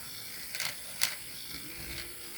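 Faint mechanical whirring and ratcheting from a spinning Woot-Off rotating light, with a few soft clicks standing out over a quiet hiss.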